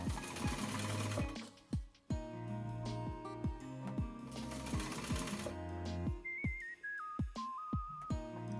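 Sewing machine stitching corset fabric panels with a raised-pattern main fabric, running in steady rapid bursts with brief pauses, a whistled tune rising over it near the end.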